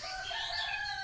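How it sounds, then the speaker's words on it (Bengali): A neighbour's chicken calls nearby in one sustained, drawn-out cry, moderately loud with no voices over it. "পাশের বাড়ির মুরগির ডাক"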